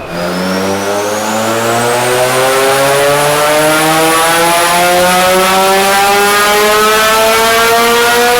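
A Mazda RX-7 engine, making 410 in a 1,100-kilo car, drones loudly and continuously, its pitch climbing gradually and steadily as it revs higher under sustained load.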